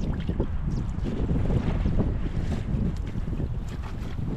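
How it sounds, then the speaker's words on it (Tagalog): Strong wind buffets the microphone in a steady low roar while fishing, with water sloshing against a small boat throughout and no voices. "lakas ng hangin"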